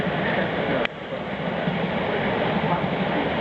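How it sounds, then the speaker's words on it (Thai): A train rolls past, a loud continuous rumble and roar from start to finish, with one brief sharp click near the beginning. "รถไฟนี่วิ่งข้ามรีเลยอ่ะไม่มีคนนั่งเลย"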